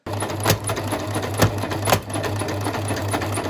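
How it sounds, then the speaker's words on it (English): A sewing machine stitching crochet pieces together while fitted with the wrong walking foot, whirring in a steady close hum broken by three sharp clacking jolts as the mechanism jumps. "it's taking me ages to sew this together because it turns out I have the wrong walking foot for my machine"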